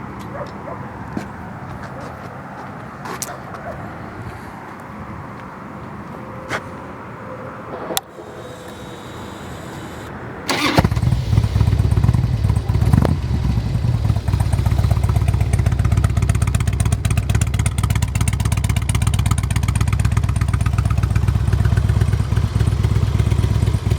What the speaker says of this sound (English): let me go ahead and fire it up for you